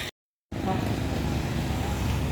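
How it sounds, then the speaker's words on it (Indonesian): A Gumarang Jaya bus pulls away on the road after a brief dropout, its engine a steady loud rumble with traffic noise around it. "Nah, ini unit Gumarang Jaya melanjutkan perjalanannya"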